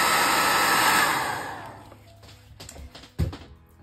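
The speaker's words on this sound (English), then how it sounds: "I'm taking my big helper, which called hair dryer" A hair dryer blows loudly at close range while drying a wet watercolor flower painting, then cuts off, leaving a few light taps and clicks.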